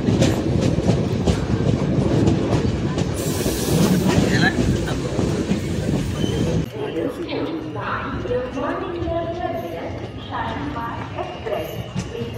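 The Shalimar Express passenger train runs at night with a loud, continuous rolling rumble and rhythmic clatter of the wheels, its tone shifting partway through, while voices murmur in the carriage.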